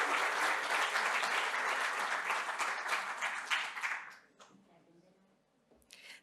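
Audience at a panel discussion on infrastructure applauding a guest, dense sustained clapping that fades out after about four seconds, followed by a brief quiet and a few scattered claps.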